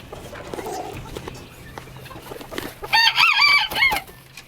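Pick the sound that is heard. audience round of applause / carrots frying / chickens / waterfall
chickens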